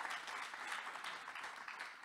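A conference audience applauds a student panelist with brief, faint, distant clapping from the room, a soft continuous patter.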